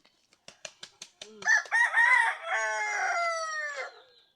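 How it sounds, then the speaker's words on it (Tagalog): A few sharp taps, then a fighting rooster crows loudly nearby, one full drawn-out crow that trails off at the end. "Ito yung isa naming manok."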